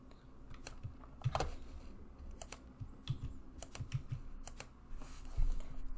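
Password typed on a computer keyboard, a run of light, irregular key clicks close by with brief pauses, no talk.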